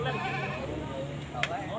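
Sheep bleat at the Pon livestock market in Pager Wojo, Perak, several wavering calls close by over a busy crowd murmur.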